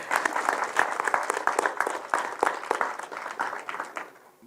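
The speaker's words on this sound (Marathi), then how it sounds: "एकदा जोरदार टाळ्या त्यांच्यासाठी." Audience at a literary talk event clapping loudly, dense and sustained applause that fades slightly toward the end, with a faint voice beneath.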